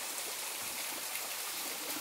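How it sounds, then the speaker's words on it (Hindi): A waterfall dropping from high up in a dense forest gives a steady, even broadband rush of falling water, moderately close, with no voices. "ये रहा वो झरना जो कि बहुत ऊपर से आ रहा है।"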